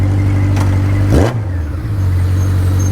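Honda Nighthawk CB750 motorcycle engine idling loudly up close, then a quick sharp throttle blip that rises and falls back to a steady idle.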